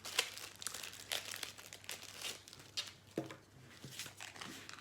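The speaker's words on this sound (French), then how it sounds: "je remets le papier, voilà, je vais bien chasser l'air" Paper being smoothed down by hand over a 20 by 20 diamond painting canvas to push out air, with soft crinkling and rubbing strokes in irregular bursts, close and fairly quiet.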